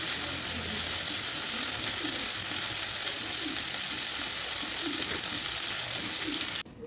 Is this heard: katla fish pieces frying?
yes